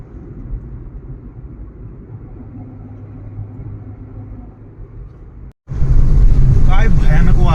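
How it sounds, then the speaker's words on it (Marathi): Strong wind batters the microphone on a highway near Kittur as a low, steady rumble. After a brief dropout it returns as a much louder, gusty roar. "काय भयानक वारं सुटलंय माझ्या काही इथं, एकदम भयानक वारं सुटलंय."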